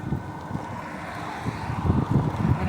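Strong wind buffets the microphone while riding outdoors along a roadside median, a steady low roar with gusts that swell toward the end, and no voices.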